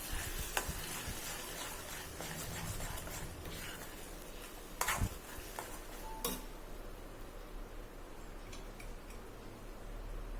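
Spoon stirring roadside-style masala puri with garlic paste in a pan, a steady scraping and faint sizzle with occasional sharp clinks of metal, continuous and close with no talking.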